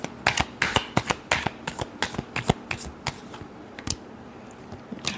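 Tarot cards being shuffled by hand give a quick run of crisp riffling flicks and taps, close and clear, with no talk.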